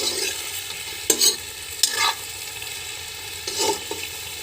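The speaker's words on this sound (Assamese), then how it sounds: "পোন্ধৰ মিনিটমান এয়া আমাৰ হাঁহ মাংস হৈ আছে" Duck meat sizzles steadily in a frying pan while a utensil stirs it, with a few louder scraping strokes breaking through the constant close-up frying hiss.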